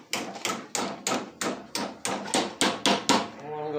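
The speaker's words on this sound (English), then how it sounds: "beat these nails where I don't hurt myself" Steady hammer blows driving nails into a push bumper on a John Deere lawnmower, about ten sharp metallic strikes in an even rhythm, close and loud, ending with a short ringing tail.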